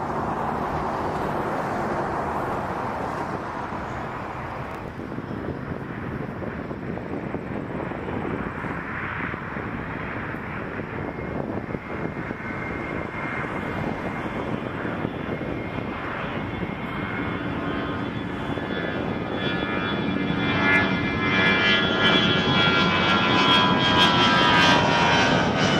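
An Embraer 175 jet accelerating down the runway on its takeoff roll at Toronto Pearson, its loud steady engine roar building and rising in pitch toward the end.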